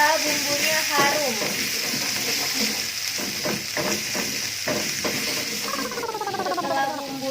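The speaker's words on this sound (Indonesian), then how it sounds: "Kita tumis hingga bumbunya harum." Spice paste stir-fried in a hot pan for a kangkung and chicken fillet noodle dish, giving a steady sizzle with scraping strokes of the spatula in the middle and a voice talking over it.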